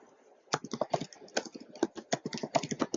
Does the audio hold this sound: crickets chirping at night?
no